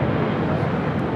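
A UPS 767-300 freighter jet arriving at LAX gives a loud, steady broadband engine roar that holds constant throughout the brief moment, with no voices.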